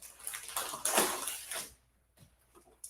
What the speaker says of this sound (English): And all you have to do with these is immerse them in water.